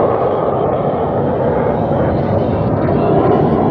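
Four jets of a formation team make a high-speed pass at the 2017 Chicago Airshow, a loud, steady broadband engine roar filling the whole moment with no break.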